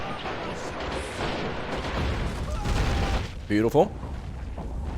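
An artillery gun fires and a shell explodes in the WW2 strategy game Men of War: Assault: rolling booms and battle rumble, then a short spoken word near the end over the fading noise.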